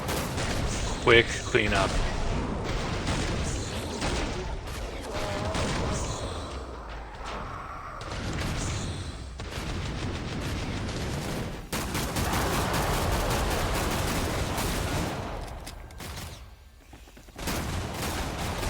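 Cannon blasts and bursts of gunfire from Team Fortress 2 tournament play fill a dense, loud battle soundscape of repeated explosions and rapid shots, with a commentator talking over the constant din.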